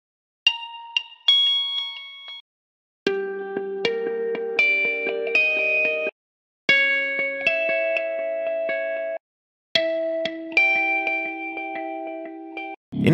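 Clean, echoing guitar notes ring out in short phrases separated by brief silences, each chord sustaining with shimmering delay repeats.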